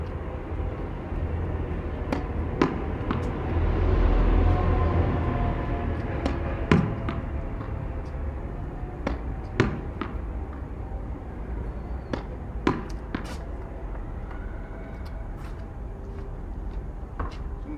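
A tennis ball is struck repeatedly during two-handed backhand practice, giving sharp, isolated pops spaced a second or two apart over a low outdoor background rumble.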